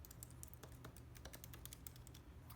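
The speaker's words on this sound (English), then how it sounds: "I'm trying to make some keyboard sounds because keyboard sounds are really cute and relaxing" Soft, close computer keyboard typing sounds as a quick, irregular patter of light key clicks, quiet and continuous with no speech.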